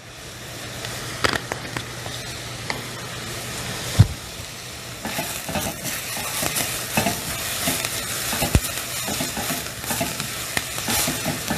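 Vegetables sweat in a pan with dried oregano while poblano chiles cook for a roasted chile relleno soup, giving a steady soft sizzle broken by occasional clanks and scrapes of stirring.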